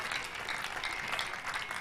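A prayer meeting congregation claps together in a dense, continuous burst of applause at a church gathering in Abuja, steady and fairly loud with no voices standing out.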